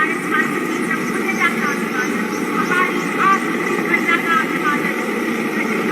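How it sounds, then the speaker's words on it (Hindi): Mi-17 helicopters flying low over an Independence Day celebration venue, showering flowers, give a steady, loud rotor and engine roar throughout, with a voice talking over it. "आकाश में Mi-17 हेलीकॉप्टर्स कार्यक्रम स्थल के नजदीक आते हुए और पुष्प वर्षा कर रहे हैं आकाश से"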